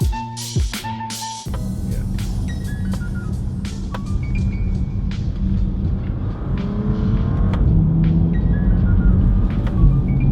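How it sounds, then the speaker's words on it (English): A Bentley Continental GT accelerates hard, opening with a few quick electronic beeps before a loud, close engine roar builds and climbs in pitch through a rapid gear change. "Well, that is a snappy shift right there."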